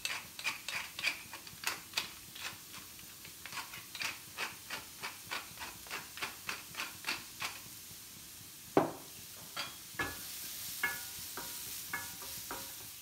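Pumpkin fries in a pan, a soft steady sizzle broken by regular scraping stirs of a utensil, moderately close and without talk.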